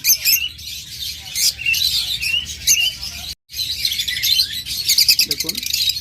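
A pair of lovebirds kept for sale chirps and tweets in dense, shrill bursts, close and loud, with a busy mix of other caged birds calling around them and a short gap midway.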